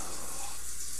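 Bath water running in The Sims 4 game, a steady broadband rush like a filling tub, close and continuous for a moment with no talk.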